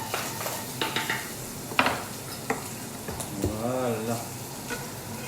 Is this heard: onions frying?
yes